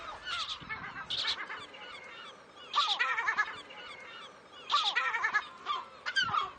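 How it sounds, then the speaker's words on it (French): Loud lesser black-backed gull calls ring out in repeated honking, laughing bursts, some close and some farther off, separated by brief quieter gaps, on Fort Cigogne island in the Glénan archipelago. "on a le fameux goéland brun avec ses pattes jaunes"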